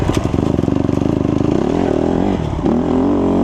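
A 150cc Honda CRF150R dirt bike engine revs loudly and close, a rapid pulsing rasp that rises into a sustained high-RPM buzz, then dips briefly and climbs again.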